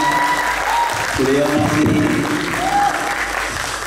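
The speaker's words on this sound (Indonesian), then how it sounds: "Tepuk tangan buat Mbak Sugeng." Audience applause at a high-school band festival in Banyumas, steady and loud for several seconds, with a voice talking over it through a PA.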